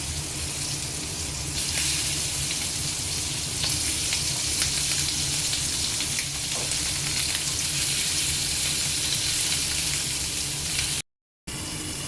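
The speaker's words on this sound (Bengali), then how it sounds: "তেলটা গরম হয়ে গেছে, এবার মাছগুলো ভেজে নিচ্ছি" Fish frying in hot oil, a loud continuous crackling sizzle that holds steady throughout, with a brief dropout near the end.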